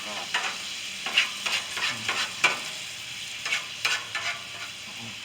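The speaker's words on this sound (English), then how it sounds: "to take the spatula, just kind of work it around" A spatula works a honey-soy glaze around on a Blackstone griddle beside salmon and broccoli, giving repeated rhythmic scrapes over a constant bright sizzle, close and moderately loud with no talking.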